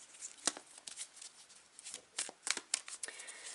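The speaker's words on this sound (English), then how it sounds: "still shuffle the cards I'm getting" A deck of tarot cards being shuffled by hand, a close, crisp flurry of papery riffles and slaps in uneven bursts, fairly soft overall with sharper snaps scattered throughout.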